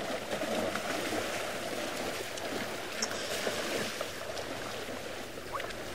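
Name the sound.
herd of animals splashing and walking through water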